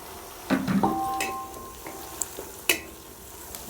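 Onions fry to golden brown in a pan for seeraga samba chicken biryani: a soft sizzle under a few scraping stirs and sharp clinks of a utensil against the pan, fairly quiet and close.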